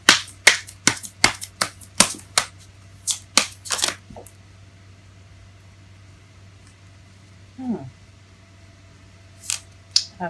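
Tarot cards being shuffled make a run of crisp, close snaps and flicks for about four seconds, then near silence with a few scattered soft rustles and clicks.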